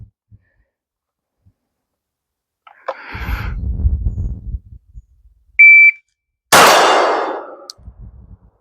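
Shot timer beep followed by a single pistol shot in a cold start drill, with a short electronic tone then a sharp loud crack, after some shuffling handling noise.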